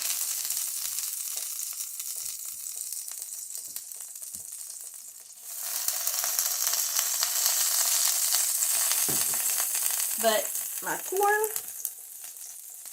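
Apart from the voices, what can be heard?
hoe cakes frying in bacon fat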